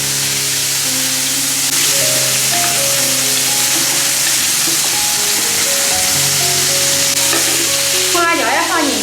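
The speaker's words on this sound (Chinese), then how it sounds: "下面做的烧茄子盖饭，叫葱姜蒜爆香。" Scallion, ginger, garlic and tomato stir-fry in a hot wok with a loud, continuous sizzling hiss and occasional stirring scrapes, heard close up throughout.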